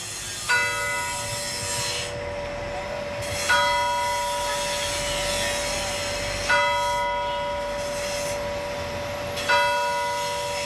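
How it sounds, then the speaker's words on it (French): Church bells ring in Mosul, four loud, clear strikes spaced about three seconds apart, each leaving a long humming resonance that overlaps the next. "Ces cloches qui sonnent à nouveau après des années de silence"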